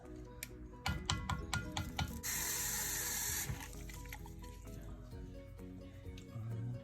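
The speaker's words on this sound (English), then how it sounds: "Let's see how much water we'll also put in, because you'll want some water." Water poured from a tap into a Ninja blender while making homemade chicken tikka masala, a steady splashing stream lasting about a second after clinks and handling noises in a kitchen.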